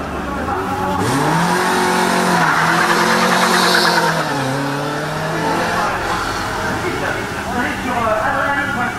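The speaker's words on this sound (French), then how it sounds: "Départ des deux voitures ouvreuses, le Spider Renault suivi de la berlinette Alpine" Renault Spider and Alpine berlinette opening cars set off at a hill climb, engines revving loudly with rising pitch sweeps and gear changes close by, under a commentator's talk.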